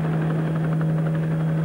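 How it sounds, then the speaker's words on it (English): A Mil Mi-6 helicopter fitted with a new advanced rotor built for the Mi-26, heard on a test flight as a steady loud drone with a deep hum and a fast rhythmic blade chop throughout. "The Mi-6, fitted with the new advanced rotor designed for the Mi-26, began a series of test flights."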